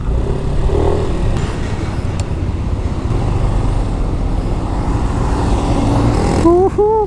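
A 2020 Yamaha NMAX scooter rides along a road and makes a U-turn, giving a steady engine drone and road rumble with wind noise, and a short tonal whine near the end.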